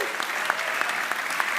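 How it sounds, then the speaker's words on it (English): Audience at an award ceremony applauding, a dense steady patter of many hands clapping throughout at moderate loudness with a few sharper claps standing out. "Big round of applause for everybody here"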